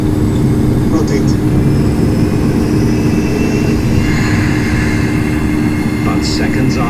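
An airliner taking off in the Infinite Flight simulator, a steady loud low engine roar with broadband rush that holds constant throughout, with faint higher tones drifting in.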